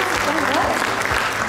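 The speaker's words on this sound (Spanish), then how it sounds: "Aplauso para ti, que te veo." Applause from a studio audience during a channel awards segment, a short steady burst of clapping that fills the clip, with a voice speaking over it.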